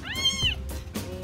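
A cat meows several times in quick succession, rising and falling whines close to the microphone, over a low background rumble.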